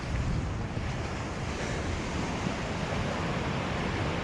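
Waves roll onto Lemon Tree Beach in Myall Lakes National Park, a continuous loud wash of surf with wind buffeting the microphone throughout.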